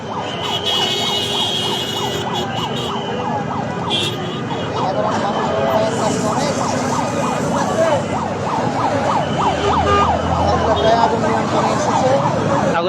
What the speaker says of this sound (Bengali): ফায়ার সার্ভিস আসছে আল্লাহ তালা হেফাজত করুক